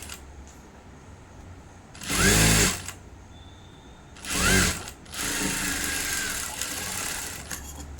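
A sewing machine stitches a folded blouse edge in two short loud bursts of whirring, followed by a steadier, quieter running stretch of machine noise.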